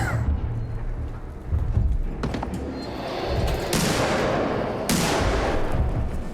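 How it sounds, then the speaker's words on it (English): Human characters in Alien: Isolation fire at the ceiling, loud booming gunshots echoing over a thick rumbling bed of noise, with a few distinct heavy blasts standing out from the continuous din. "love the humans shooting at the ceiling there"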